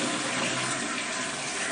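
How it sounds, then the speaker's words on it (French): Toilet flushing: a continuous, loud gush of rushing water that holds steady throughout, heard close up with no voices. "Je tire la chasse d'eau."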